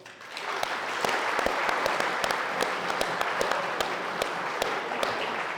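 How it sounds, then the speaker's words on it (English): Applause from anglers gathered after a Division One National match fishing event on the Warwickshire Avon, a sustained crowd clapping with distinct sharp claps scattered through it, steady and close. "So, round of applause to you all."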